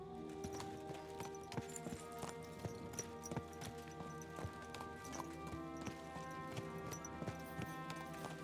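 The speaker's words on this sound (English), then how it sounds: "Pebbles, you are a very great horse." Horse hooves clip-clop in a steady trotting rhythm in the medieval game Kingdom Come: Deliverance II, close and clear over a constant tonal backdrop of game music.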